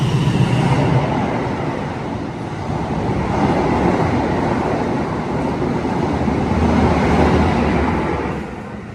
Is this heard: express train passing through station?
yes